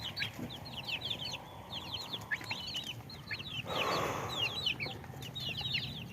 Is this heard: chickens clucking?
yes